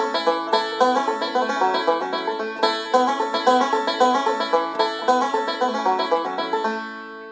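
A banjo plays a bright rolling picked phrase using the Scruggs bend on a 2-3 slide, rapid plucked notes in an even rhythm, close and clear, with no voices, ending on a fading ring.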